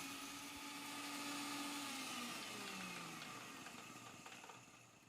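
A mixer grinder grinding dry spices: a steady, loud whirring motor grinds continuously for several seconds, a dense broadband roar with a faint pitch sweep, slowly easing toward the end.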